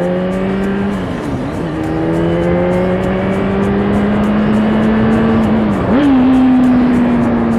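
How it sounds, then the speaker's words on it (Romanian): A motorcycle engine rev-matches on a downshift, the steady engine drone sliding down and then blipping sharply upward near the end. It is loud and close, recorded on the road, and nobody speaks over it. "Asta este rev matching-ul"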